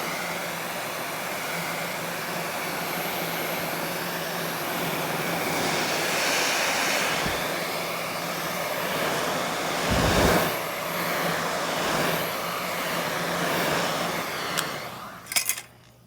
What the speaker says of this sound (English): I've got my heat gun. Now I'm going to put heat on this.